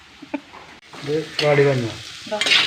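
Onions sizzle in a hot pan as a spoon stirs and scrapes, close by, with a voice briefly heard over the frying.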